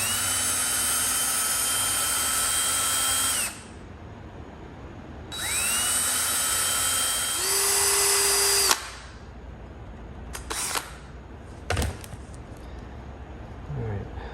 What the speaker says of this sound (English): They aren't big enough for the gauge wire I'm using, so I'm just going to drill them out a little bit.